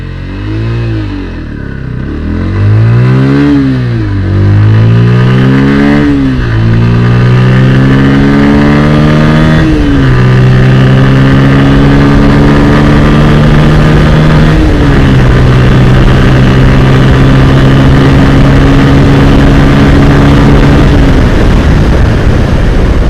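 Close and loud, a Bajaj Pulsar N160 motorcycle pulls away in first gear, engine note climbing and dropping through repeated revs before holding a long, steady high-pitched drone.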